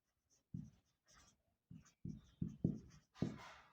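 Marker or chalk writing on a board during a maths lesson: a series of short scratchy strokes in quick bursts, close and fairly quiet, with pauses between words and no talking.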